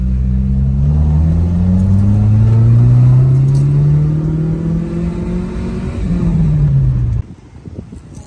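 A car engine rumbles steadily and close by, its pitch climbing slowly as it accelerates, then easing off before cutting out near the end, leaving quieter background noise.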